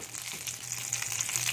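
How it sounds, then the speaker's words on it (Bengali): Two dried red chilies and a bay leaf fry in a little hot oil, producing a faint, steady crackling sizzle up close that grows slightly livelier toward the end, with no voices. "এখানে আমি শুকনো লঙ্কা দিয়ে দিচ্ছি 2 পিস, তেজপাতা দিয়ে দিচ্ছি 1 পিস। এটা একটু তেলের মধ্যে ভেজে নেব।"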